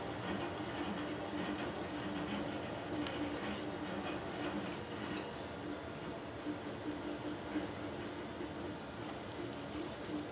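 A laminator slowly feeds freezer paper and fabric through its rollers, giving a low, steady mechanical hum with faint whirring and occasional light clicks, fairly quiet throughout.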